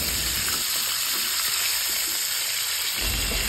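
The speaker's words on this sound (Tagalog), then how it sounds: "O ibiling po natin ang ating pork at ayan na, nag-golden brown na siya." Pork sizzles steadily in a hot pan as it fries to golden brown for pork estopado. The bright, hissing crackle is close and unbroken, with no talking over it.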